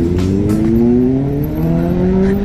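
Superbikes, including an NR and a 901, arrive at a meet-up with engines revving close by, a loud layered drone whose pitch climbs steadily over a couple of seconds.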